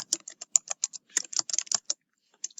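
Fast typing on a computer keyboard, crisp close key clicks in quick bursts with a short pause near the end, heard alone without speech.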